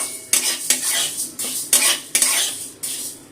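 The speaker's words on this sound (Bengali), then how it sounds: "সঙ্গে নাড়াচাড়া করে ডালটা একটু ভেজে নেব" Mung dal being stirred and fried in a pan for vegetable khichuri, a metal spoon scraping and clinking against the pan in about seven distinct strokes, close and alone without talk.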